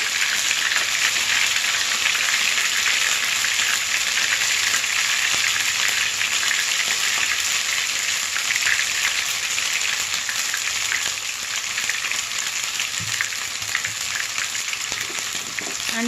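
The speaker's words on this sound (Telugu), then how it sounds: "చాలా జాగ్రత్తగా మనం తీసుకోవాలి చిటముట్లు ఆడుతుంది" Hot oil spluttering and crackling steadily while green chilli pickle spices fry in a pan, a dense continuous sizzle close by and fairly loud throughout, with no talk.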